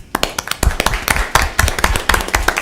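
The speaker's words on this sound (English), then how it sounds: "I just want to give you all a round of applause." Applause from a small group at a city council meeting, with irregular close hand claps and sharp individual slaps that stay steady throughout.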